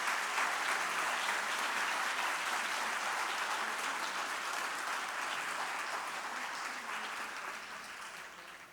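An audience at an international congress on the wage gap applauds steadily, a dense, even wash of many hands clapping that holds for several seconds before tapering off at the end.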